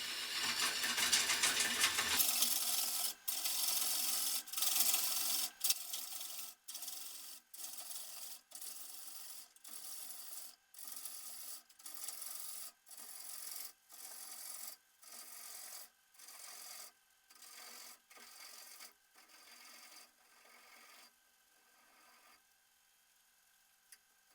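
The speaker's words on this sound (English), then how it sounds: "I'm getting strange noises because shavings are going under the piece and there isn't much room between the piece and the lathe bed" Wood shavings caught under a spinning Robinia and resin platter on a lathe rub and rasp against the bed, a rhythmic scraping pulse repeating steadily and gradually fading.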